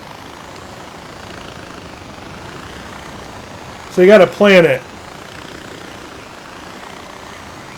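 A steady, droning helicopter engine hum from the video game Far Cry 4 runs throughout, with someone briefly talking over it midway.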